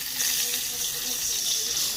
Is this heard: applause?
no